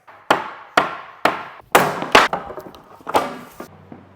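Crate walls being taken down with a crowbar and small hammer, producing a series of sharp, loud wooden whacks and cracks, about eight strikes at an irregular rhythm, close and alone.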